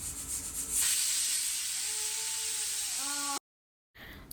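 Pressure cooker on a home kitchen stove venting steam, a loud continuous hiss that surges and then holds steady, with faint tonal whines near the end before a sudden cutoff.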